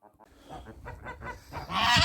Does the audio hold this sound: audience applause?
no